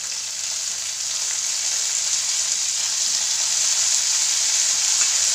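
Fiddlehead fern greens (dhekia saag) hiss and sizzle steadily in hot oil with browned onions, a dense, even frying noise that holds close and constant throughout, slightly swelling toward the end.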